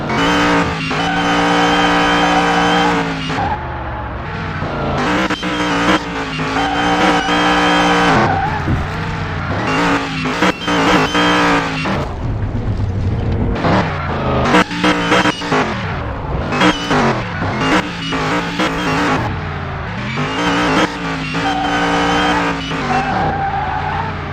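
A 1978 Pontiac Firebird spins its tires on dirt, loud engine roaring and revving with squealing, skidding tires throughout, surging in repeated bursts close by.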